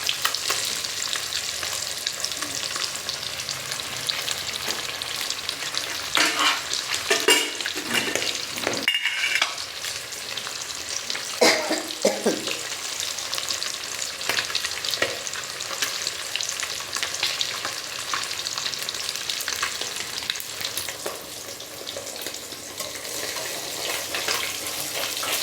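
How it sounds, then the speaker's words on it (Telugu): Fish frying in a pan, a continuous close hiss of hot oil with scattered scrapes and clatters from stirring, lasting throughout without speech. "చేపల ఫ్రై"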